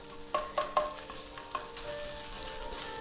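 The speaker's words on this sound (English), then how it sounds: "And you're just kind of roasting this tomato paste just a little bit." Tomato paste sizzles and roasts in a small pot while a utensil scrapes and taps against the sides, a few sharp clinks at first, then a steady sizzle alone.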